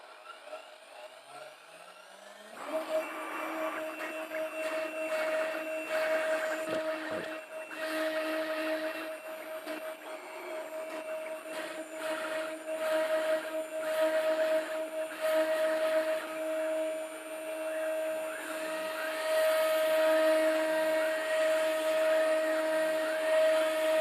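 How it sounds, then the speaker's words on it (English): A CNC machine milling cabinet door hinge holes, a steady high whine from the spindle with shifting grinding and cutting noise, loud and continuous throughout. "Let's press the start button to send the G-Code to the machine and see what happens in the end."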